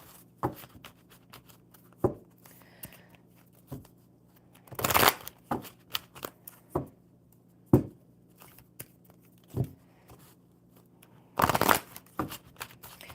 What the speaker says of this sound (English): Let's get this one shuffled up super good.